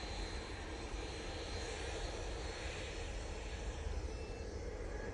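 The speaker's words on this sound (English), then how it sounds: "That Ryanair is coming on now." A Ryanair airliner comes in to land at Manchester Airport, its engines a steady, broad roar that holds loud and even throughout with no voices over it.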